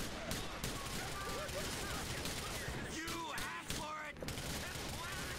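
Rapid bursts of automatic gunfire in the video game GTA IV: The Lost and Damned, loud and continuous over several seconds, with a couple of sharper shots near the end.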